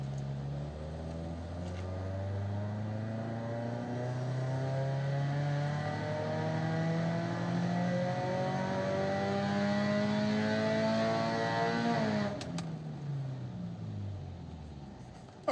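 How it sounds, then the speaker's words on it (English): A Subaru engine climbs smoothly through a dyno ramp run, its mid-pitched drone rising steadily in pitch for about twelve seconds before abruptly dropping off as the throttle closes. "We'll perform a ramp run on the dyno"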